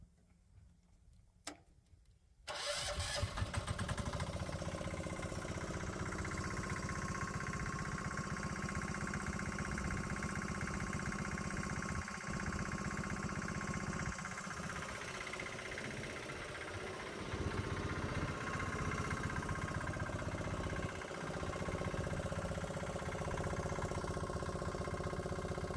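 A diesel electric golf cart engine starts after a few quiet seconds and settles into a loud, steady running clatter that continues through the clip, with slight dips and surges in level.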